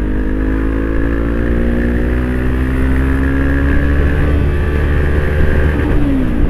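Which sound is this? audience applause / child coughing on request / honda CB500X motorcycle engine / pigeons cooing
honda CB500X motorcycle engine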